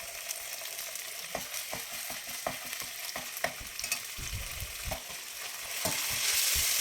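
Green chilies and ginger garlic paste frying in a pan for veg pulao, a soft continuous sizzle with a run of quick stirring scrapes, the frying hiss swelling louder near the end.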